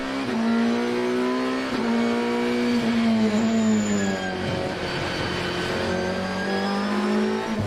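Race cars including a Ferrari and an Audi accelerate hard off the start at Zandvoort circuit, loud rising engine notes climbing through gear changes, several machines blending into a sustained close roar.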